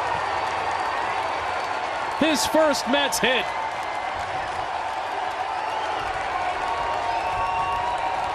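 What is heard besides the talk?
baseball stadium crowd cheering after Cameron Maybin's first Mets hit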